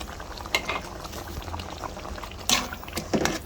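A pot of seasoned chicken stew bubbles on the stove, a soft continuous simmer with scattered pops and a few sharper clinks or splashes near the end, no talk.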